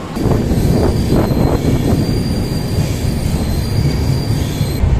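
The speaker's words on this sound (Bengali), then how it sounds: "সাঁতরাগাছিতে 1 নম্বর প্ল্যাটফর্মে এসে দাঁড়ালো করমণ্ডল এক্সপ্রেস" The Coromandel Express rumbles loudly along the tracks into Santragachi station platform 1, wheels grinding and squealing with rattling clatter, close by and continuous.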